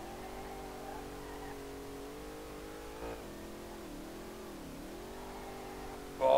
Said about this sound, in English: Oh, full throttle, yeah, nice.